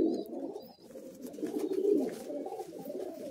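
Madrasi high flying pigeons coo steadily inside a loft in Kolkata, a dense, continuous murmur of several birds layered together with a few higher chirps early on.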